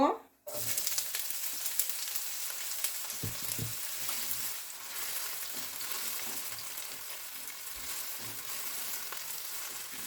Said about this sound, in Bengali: কুচি করে রাখা পেঁয়াজটা দিব।